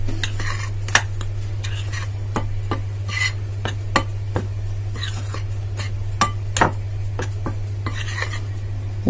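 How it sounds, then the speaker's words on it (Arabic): Chocolate cake batter ingredients are stirred in a bowl, with a utensil clinking and scraping against the sides in irregular taps over a steady low hum. "هقلب المواد دي كلها على بعضيها كده بالشكل ده"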